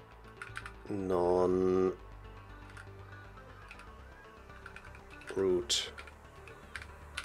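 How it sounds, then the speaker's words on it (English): Slow typing on a computer keyboard set to the Colemak layout gives sparse, scattered key clicks, with a couple of short bursts of speech over them. "I'm typing very slowly because I've switched my keyboard layout to Colemak"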